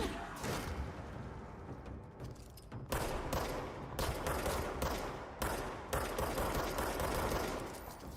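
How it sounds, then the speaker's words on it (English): Gunfire in the action game Control is a dense, continuous barrage with sharp repeated shots and louder cracks about once a second, all of it fairly quiet. "Those bullets everywhere but my target."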